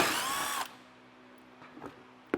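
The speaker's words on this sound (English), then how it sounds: "Now I'm going to use a 8mm socket and get 2 screws removed on this belly pin." Power drill with an 8mm socket spinning out screws from a belly pan while a base plate kit goes onto a 2023 Jeep Gladiator, a loud close whir that stops abruptly, followed by light clicks and handling.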